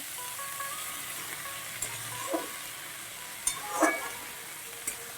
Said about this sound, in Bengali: মেথি শাকটা দিয়ে আমি নাড়িয়ে চাড়িয়ে একটু ঢাকা দিয়ে দেবো